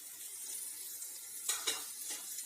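A potato and cauliflower samosa filling being mixed with powdered spices, with a quiet hiss underneath and a few soft scrapes of a spoon against the pan.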